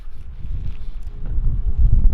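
Strong wind on the island of Gozo buffeting the microphone in low, rumbling gusts that swell louder toward the end, with no talking.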